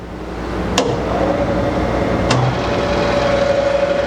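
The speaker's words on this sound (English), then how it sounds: "So that's the hydraulics and the grinding spindle on." Brown & Sharpe 10 by 20 inch universal cylindrical grinder wired for 440 volts starting up, its hydraulics and grinding spindle producing a steady mechanical hum and whine with two sharp clicks early on, close and loud.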